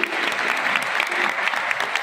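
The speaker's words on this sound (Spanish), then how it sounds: "yo pido para ellos de momento un aplauso." Brief burst of dense applause from the congregation during a church mass at a San Blas festival, steady and fairly loud throughout.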